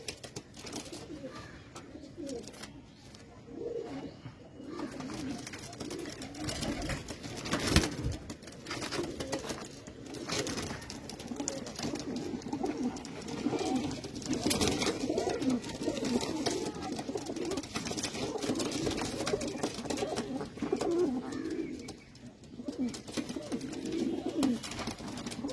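Pigeons, Kalsera and Lalsera patta types, keep up a steady stream of soft, rolling coos nearby for the whole stretch, with slight swells in loudness and no voices.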